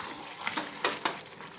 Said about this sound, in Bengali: সব একবারে দিয়ে এটা ভালো করে কষিয়ে নিচ্ছি